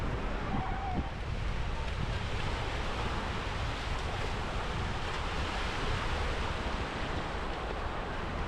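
Ocean waves break on the beach at Binz, Germany, making a continuous roar of surf mixed with buffeting wind noise at an even loudness throughout.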